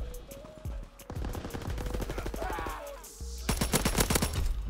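A full-auto M2 carbine fires in Call of Duty WW2, with rapid bursts of sharp gunshots in a steady stuttering rhythm, a short pause, then another loud burst.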